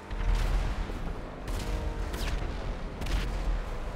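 Gunfire in a Rockstar action game, an RPG-versus-armored-cars match: heavy, booming volleys repeat in rough bursts about every second or so over a dense, loud background roar.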